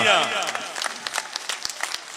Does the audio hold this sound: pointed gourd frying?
no